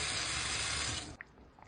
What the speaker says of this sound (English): I'm gonna wash them with lukewarm water and put them in my soup.